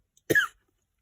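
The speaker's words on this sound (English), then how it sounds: "Excuse the cough" A single short, close cough from a woman with a sore throat, sharp and isolated in an otherwise quiet room.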